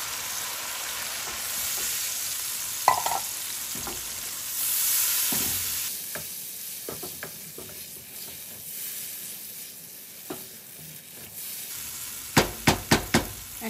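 Chilli and cumin powder spice masala for an egg potato curry fried and stirred in a pan, with steady sizzling, scattered spatula scrapes and knocks, and a quick run of sharp taps against the pan near the end, no speech.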